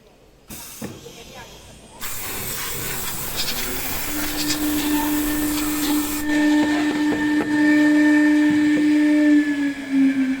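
A side hole drilling machine heating and boring blender holes on both sides runs with a loud hiss and a steady tonal hum that builds after a few seconds, punctuated by sharp mechanical clicks and knocks.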